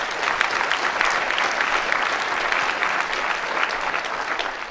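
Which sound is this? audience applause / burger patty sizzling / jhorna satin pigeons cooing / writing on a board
audience applause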